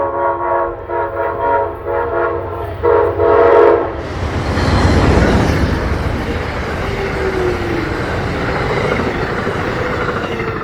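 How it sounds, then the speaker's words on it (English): An Amtrak train's horn plays a Jingle Bells salute in a string of loud, distinct notes, then the train rushes past nearby with a steady roar and the rattle of wheels on the Keystone Corridor rails. "a friendly engineer in the Christmas spirit playing a Jingle Bell salute on the horn"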